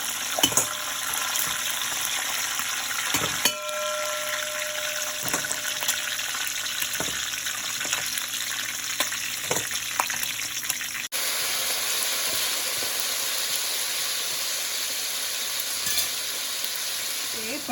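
Crab pieces frying in oil in a pan for Malaysian-style black pepper crab, a steady close sizzle with occasional sharp clicks and pops running continuously, no voices.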